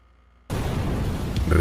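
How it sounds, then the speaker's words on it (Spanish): A crashed aircraft in a Madness Combat animation collapses further and sets off a second explosion: a sudden loud burst after a quiet start, then a sustained roaring rumble. "la aeronave por su peso se colapsó aún más, causando así una segunda explosión"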